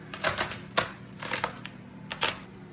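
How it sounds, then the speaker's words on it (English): A knife slices through red cabbage into slivers, giving a few crisp, close chopping clicks in small irregular bursts against a board, with quiet pauses and no talk. "really quickly I'm just going to cut it into slivers"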